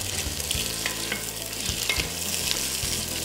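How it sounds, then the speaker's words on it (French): Pieces of pork sizzle steadily in butter in a hot pan, with occasional scraping and stirring sounds punctuating the crackling. No one speaks. "Et je vais faire revenir les morceaux de porc"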